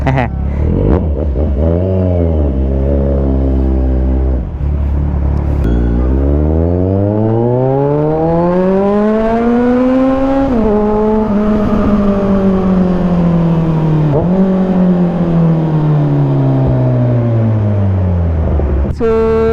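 A Kawasaki Z1000R motorcycle with an updated exhaust rides past loudly, its engine note climbing and falling through several gear changes in a long rising drone, with talk mixed in.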